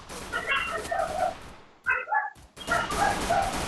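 A dog gives several short yipping barks in quick bursts, fairly faint, over steady background noise.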